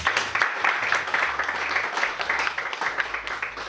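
An audience at a tech panel event in London applauds, a dense, fairly close wash of clapping that swells and fades over nearly four seconds.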